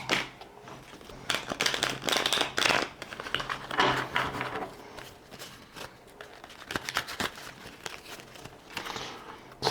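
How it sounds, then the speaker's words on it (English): A deck of game cards being shuffled, soft riffling and crinkly papery flutters in irregular bursts, close and fairly quiet, with small taps and rustles between. "you're going to take the cards, give them a good shuffle"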